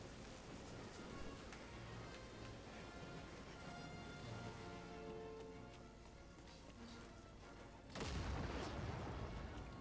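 Explosions in the video game Jedi Fallen Order, a rumbling run of booms and blasts with a heavy burst near the end, played fairly quietly alongside game sound.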